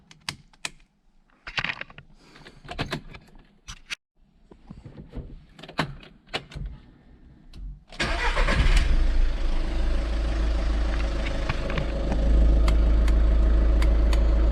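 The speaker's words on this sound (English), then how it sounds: "Maybe I need to start the car." A Seat Ibiza is started after scattered clicks and switch sounds: the starter turns, the engine catches and settles into a steady, loud idle hum for several seconds, with no talking.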